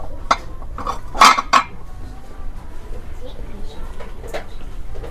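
Dishes and tableware clink and clatter as they are handled in a 100 yen store, a few sharp bursts early on, then faint intermittent clinks over a murmuring shop background with people talking.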